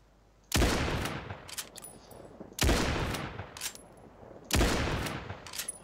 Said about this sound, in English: Now for the Springfield.